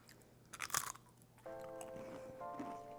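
Crunchy pecan-flavored buñuelos de viento are bitten with a sharp crisp crack, followed by close, quiet chewing crunches. No one speaks, and a faint tonal hum sits underneath.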